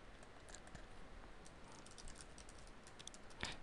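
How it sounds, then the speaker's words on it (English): Someone types a VNC password on a computer keyboard in a quick string of light, irregular key clicks, ending in a sharper final keystroke, over a quiet room hum. "Type in the VNC password."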